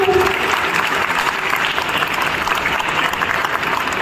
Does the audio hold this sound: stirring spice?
no